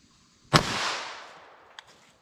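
A single sharp .22 Long Rifle Winchester Super-X Hypervelocity gunshot cracks close and loud, its report trailing off over about a second, followed by a faint small click.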